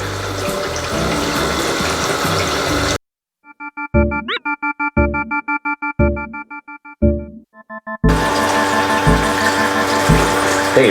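Water pumps through a toy kitchen sink faucet in short repeated spurts, four or five bursts with gaps between, heard near and clear, set between louder stretches of noisy background.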